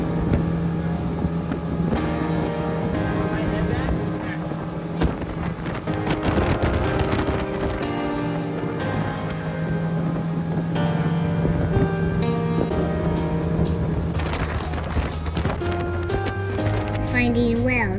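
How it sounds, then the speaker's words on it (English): A small boat motors out to sea, its steady engine drone running throughout with heavy wind buffeting the microphone. "We got in a small boat and set out to sea."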